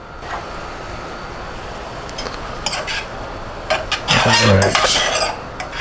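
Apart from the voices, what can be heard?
stirring oyster penne pasta in a pot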